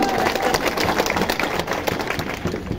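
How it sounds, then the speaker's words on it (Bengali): A crowd of party workers clapping during a speech at a political workers' meeting in Muktagacha, Bangladesh, producing a dense, steady patter of applause that continues evenly throughout. "এই বক্তব্যে যেমন হাততালি দিয়েছেন"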